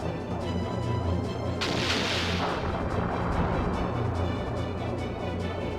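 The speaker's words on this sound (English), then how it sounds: "we are dealing a lot of damage with our secondary cannons" Airship secondary cannons fire in the Skies of Arcadia video game, a dense run of heavy booming blasts with one sharp crashing burst near the middle, loud and continuous with no talk.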